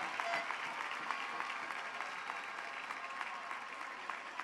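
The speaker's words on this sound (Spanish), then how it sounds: "Que les demos también un aplauso." A crowd applauds Costa Rica's president-elect Carlos Alvarado during his 2018 victory speech, a continuous wash of distant clapping from a large gathering with cheering noise mixed in, fairly quiet and steady from start to finish.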